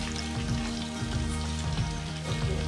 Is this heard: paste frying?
yes